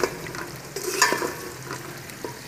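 Chicken being stirred and browned in a pan gives a soft sizzle under uneven scrapes and knocks of a spoon, with one louder clatter near the middle and no voices.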